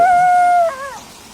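A dog howls loudly and close by, one long sustained wail that breaks and bends downward before trailing off, with no talk over it.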